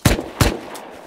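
Two sharp, loud shots ring out in Rust, roughly a third of a second apart, each followed by a short echoing decay.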